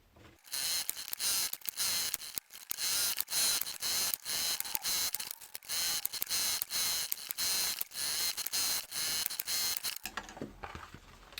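A sewing machine stitches a fabric tool pouch in quick, steady bursts of rapid mechanical clatter, close and loud, with short pauses between runs and a quieter handling sound at the end.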